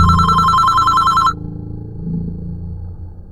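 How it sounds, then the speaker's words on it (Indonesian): Telephone ringing while a call is placed: a loud electronic ring tone for about a second and a quarter, then it cuts off, leaving low murmur and background noise. "Coba kita telepon dulu ya."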